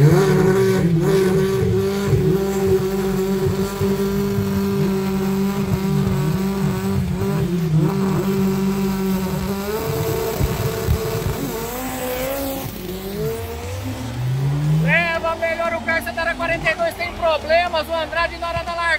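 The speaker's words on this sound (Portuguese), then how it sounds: "Ou se é o Carça com o seu chevette aqui na pista da direita" Chevette cars launch side by side on a drag strip in Cascavel, with engines revving loud and close, tires squealing, and a rising acceleration roar in the final seconds, while an announcer talks over it.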